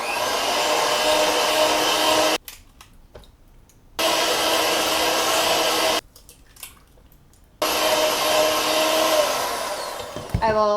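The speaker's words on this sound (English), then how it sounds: "Three eggs, beat after each one." Electric mixer beating eggs one at a time into brownie batter for butterscotch swirl brownies, a loud steady whir that stops twice for short pauses before starting again.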